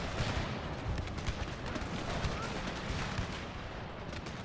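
Cannon and musket fire crackle through a Total War: Pike and Shot battle of the English Civil War, a dense, distant rumble of repeated shots under faint voices.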